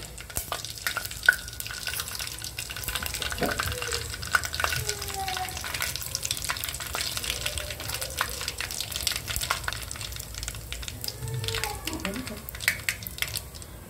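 Cumin and mustard seeds sizzle and crackle in four to four and a half ladles of hot oil for stuffed brinjal sabji, with scattered pops, stirring clinks and a spoken voice over the frying.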